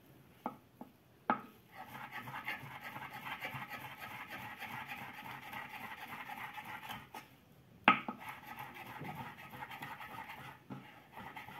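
Knife chopping crab sticks on a board for a smoked salmon quinoa salad: a few sharp separate knocks, then a steady close scratchy cutting texture, another sharp knock and a little more cutting, with no talk.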